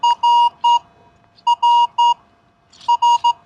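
A Minelab X-TERRA metal detector sweeping over a new quarter gives loud, clean electronic beeps in three groups of three, each group evenly spaced with short gaps of quiet between them, alone without talk.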